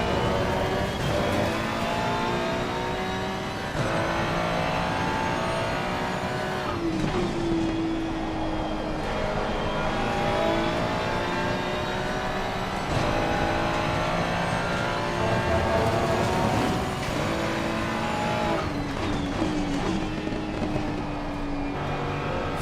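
A race car laps Spa-Francorchamps in a racing video game, its engine droning loud and continuous with repeated rising and falling revs through gear changes, no voices over it.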